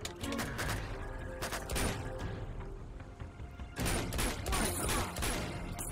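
Pistol fire in Uncharted 2: Among Thieves cracks out in several sharp bursts spread over about six seconds, the shots separated by short gaps and mixed with other game sounds, no talk.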